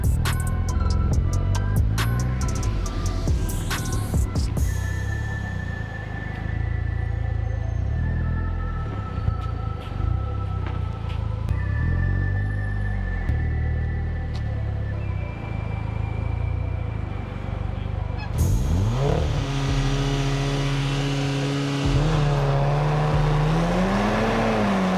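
A 2-liter turbo VW Golf R (Mk6) revs on launch control, its engine note rising loud and close and holding around a steady high pitch, then snapping up sharply near the end as it pulls away, with no talk over it.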